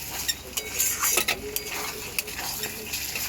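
A spoon stirs paneer rezala curry in a pan, giving soft, irregular scrapes and light metallic clinks at close range over a low, steady background hiss.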